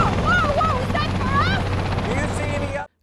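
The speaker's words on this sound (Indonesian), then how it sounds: "terlihat sebuah helikopter udah menanti" A helicopter waits on a building rooftop, its steady low rotor drone running continuously beneath higher whistling tones before cutting off abruptly.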